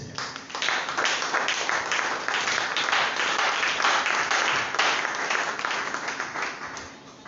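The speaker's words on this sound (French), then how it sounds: "Merci de m'avoir acclamé." A church congregation applauding, dense sustained clapping from many hands at moderate distance that swells and holds, then tapers off near the end.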